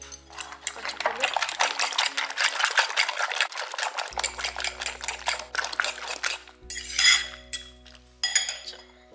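A fork whisks ingredients in a bowl, making fast, steady metallic clinks against the dish in long runs that break off briefly and then resume in shorter bursts.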